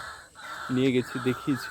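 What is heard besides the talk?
birds calling, including crows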